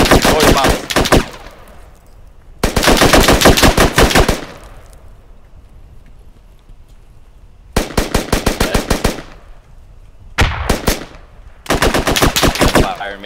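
Automatic gunfire in the video game Squad, loud rapid bursts of shots in several long volleys separated by short quiet gaps, close and dominant.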